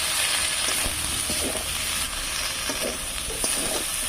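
Spice masala stirred with leaves in a frying pan, alongside new flat beans, potato and fish, making a dense continuous sizzle with soft scraping and stirring sounds, near and steady.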